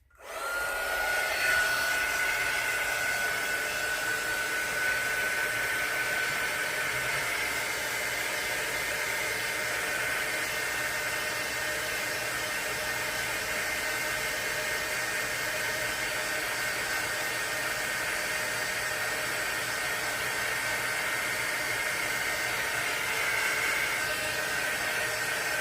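A hair dryer-style heat tool blows steadily on ceramic resin, a loud continuous whooshing hum with a faint whine that runs unbroken for the whole stretch.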